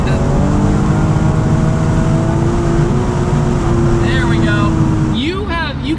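Engine of a replica Nissan Skyline GTR revs loudly and steadily up close from inside the car, a sustained droning roar with rising pitch sweeps near the end, while people talk over it.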